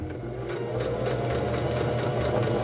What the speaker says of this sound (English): And we're just sewing in a straight line.